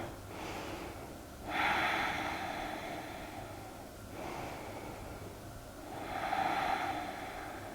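Deep, slow breathing during a yoga twist, with long airy inhales and exhales rising and falling in about three cycles, close and soft with no talking.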